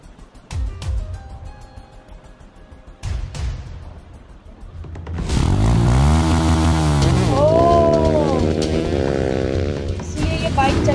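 Motorcycle in a zombie-themed Hindi web series scene, its engine loud and sustained with rising and falling revs over the second half, following quieter rumbling and sharp impacts earlier.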